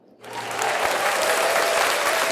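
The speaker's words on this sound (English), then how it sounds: "Where my applause at?" A crowd bursts into applause, rising quickly from silence into sustained, dense clapping that stays loud and even throughout.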